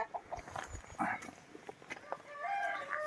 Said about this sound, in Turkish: İkinci horozumuz